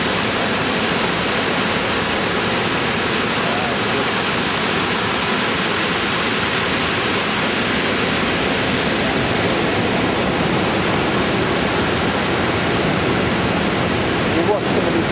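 Zambezi River waterfall rapids roar as a dense, unbroken wall of loud white water throughout, seen from a kayaking trip, with no pauses or distinct events.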